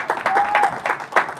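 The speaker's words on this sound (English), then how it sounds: "Let's give her a round of applause." Scattered clapping from a church congregation, a sparse, uneven rhythm of distinct hand claps rather than a full roar, coming from a modest group of people.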